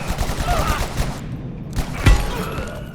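Shotgun blasts in the survival game Abiotic Factor, loud booming shots with a strong thump near the end, under a player's hurried talking.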